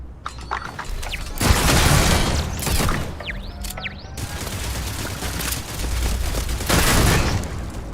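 A turret fires in the space game Starfield with dense, continuous bursts of gunfire and booming impacts. The barrage stays loud throughout, with mechanical whines and zips cutting through the clatter.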